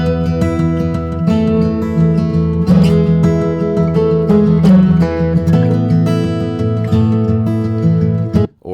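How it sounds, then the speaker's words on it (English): A full music mix with boomy, thick low end and dull, smeared highs, playing steadily for several seconds before cutting off abruptly. "if we were to mudify it, it would sound like this."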